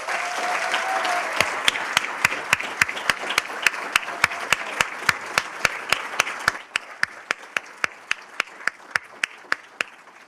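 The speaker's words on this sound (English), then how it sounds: "If you would please give another outstanding round of applause for our Alumni Fellows." At an alumni fellow awards ceremony, an audience claps in a steady rhythmic beat over a wash of general applause; the background applause drops away partway through while the loud, regular unison claps continue.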